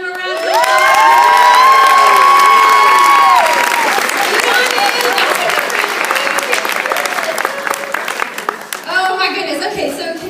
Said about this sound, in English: So as the team leaders take their seats, y'all give them a round of applause.